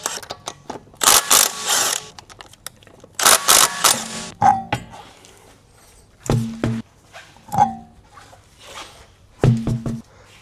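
Wheels come off a Mitsubishi Evo 10 with repeated loud, close ratcheting bursts from a tool on the lug nuts, each run lasting about a second, separated by clanks and quieter handling noises.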